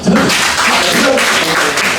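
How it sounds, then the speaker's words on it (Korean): Youth group members in a church setting give a brief round of applause, a loud, dense burst of clapping that fills the short moment, close and continuous. "박수 한번"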